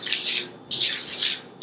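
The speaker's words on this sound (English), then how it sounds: "I'm going to mix this snow together." A thick homemade snow of baking soda and conditioner is stirred in a bowl, giving repeated close, gritty rubbing scrapes in steady strokes with brief pauses between them.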